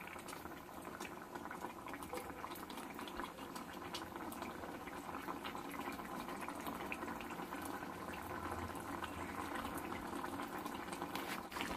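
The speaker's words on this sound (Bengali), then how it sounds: "দিয়ে একটু ফুটিয়ে নেব।" Omelettes simmer in boiling gravy with a steady, dense bubbling and sputtering that carries on without pause, close and fairly loud.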